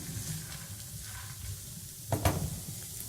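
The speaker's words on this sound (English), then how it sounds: "So this is getting pretty soft, so I think we can add the cauliflower." Two cups of cauliflower added to a frying pan of softened vegetables for a low-carb Mexican dish, a soft steady sizzle with a brief louder scrape and clatter of stirring toward the end.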